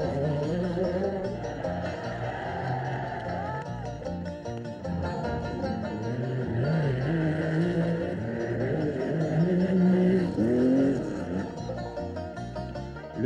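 Rally cars race around the arena in Nîmes during a 1985 sprint event, engines droning and revving continuously at middle distance, swelling and fading as they run through chicanes, with a steady busy roar throughout.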